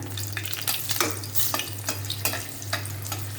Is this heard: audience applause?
no